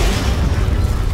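A bomb explosion in a Deadpool video game: one loud, dense, low rumbling blast that fills the whole moment, close and heavy with no voices over it.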